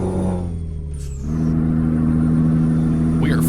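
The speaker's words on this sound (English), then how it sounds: "Just listening to the sound set in this truck, it's just so good." A truck engine hums steadily in Euro Truck Simulator 2, its tone dipping and then settling at a higher pitch as it pulls along the highway, with faint brief chirps and no talk.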